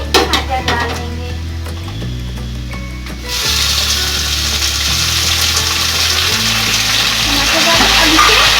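Tomatoes added to peanuts frying in a pan on a low flame, a loud continuous hiss and scraping stir over a low steady hum, the sizzle rising and staying strong after the first few seconds.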